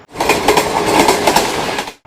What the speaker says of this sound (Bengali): মাত্র 4 ঘন্টায় রাজধানীতে পৌঁছে দেওয়া আধুনিক ট্রেন